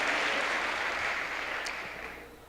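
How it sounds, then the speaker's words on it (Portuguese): A church congregation gives a round of applause, a soft, steady blur of many hands clapping that slowly tapers off. "dê uma salva de palmas"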